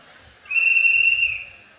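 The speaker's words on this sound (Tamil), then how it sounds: "விசில் பண்ணோடனே எல்லாரும் ஸ்டாப் பண்ணிடணும்." A single sustained whistle blast during a children's game at a church harvest festival, loud and steady for about a second with clear harmonics, alone with faint background murmur.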